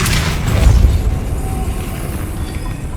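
A Depulso force spell cast in Hogwarts Legacy lands as a deep booming burst with a quick crack, near and loud, then fades into a low rumbling game ambience.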